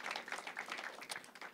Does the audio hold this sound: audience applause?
yes